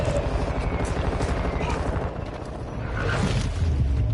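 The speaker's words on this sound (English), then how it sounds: "Mortar support incoming! Solid copy. Mortar strike on the way." Mortar strike explosions in a video game: dense, continuous booming and rumbling barrage with rapid gunfire-like cracks, loud and sustained across the whole stretch, with no pauses.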